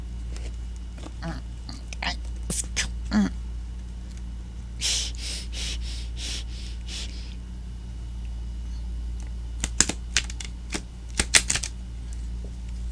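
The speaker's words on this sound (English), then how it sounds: "I'm going to try a standard shuffle" Cards riffle and snap in short bursts, with scattered clicks and flutters between quieter pauses, close up and alone.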